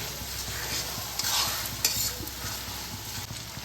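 Ginger-garlic paste and onions stir-fried over a low flame, a soft continuous sizzle with light spatula scrapes and clicks throughout, close but fairly quiet, no voices.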